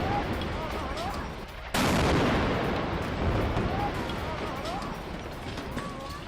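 Israeli airstrike explosions on Hezbollah positions in Beirut, heard as a sudden loud broadband blast with sustained rumbling debris and crackle afterward, over a steady background of news-footage noise.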